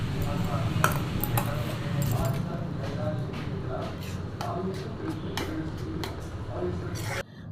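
Vegetables go into fried dal in a pan, marked by repeated metallic clinks and scrapes of a spoon against the cookware over a steady kitchen background, with a voice speaking throughout.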